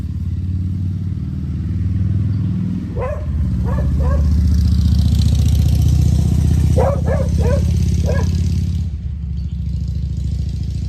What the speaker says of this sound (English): Wait until the motorcycle passes so they can hear you.